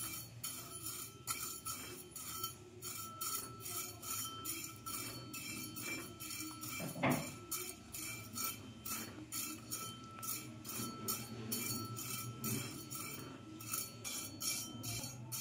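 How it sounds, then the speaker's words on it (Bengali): Vermicelli is dry-roasted in a pan with no ghee for seviyan kheer, with faint, regular clinks and light scrapes of stirring repeating steadily over a quiet background. "শুকনো খোলাতে একটু ভাজিয়ে নিব।"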